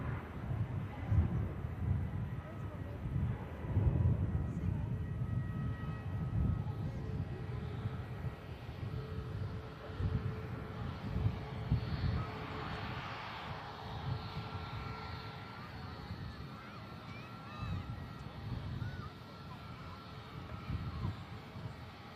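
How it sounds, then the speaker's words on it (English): A Ryanair airliner departs and climbs away, a broad rumbling jet roar strongest early and gradually fading into the distance, with wind buffeting on the microphone. "Ryanair climbs out, aircraft going down to Kyrgyzstan"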